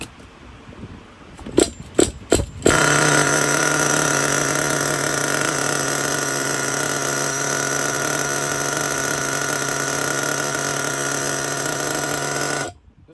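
A nitro RC car engine with pinched sleeves fires from a cold start after a few sharp pull-start rattles, then runs at a loud, steady, buzzing idle close by for about ten seconds before cutting off abruptly.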